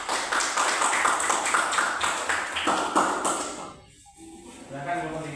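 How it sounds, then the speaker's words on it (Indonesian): Students in a classroom clap for a student group in a brisk, uneven burst that stops abruptly, followed by low voices and shuffling. "tepuk tangan untuk kelompok 2"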